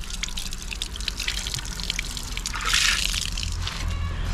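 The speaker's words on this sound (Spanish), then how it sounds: "Ya que estos chorros siempre tienen agua." Water running from spring spouts at a natural spring in Tacachico, El Salvador: a steady splashing trickle with a brighter gush partway through, heard close alongside background noise.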